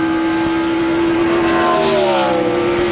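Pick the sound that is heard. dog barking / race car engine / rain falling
race car engine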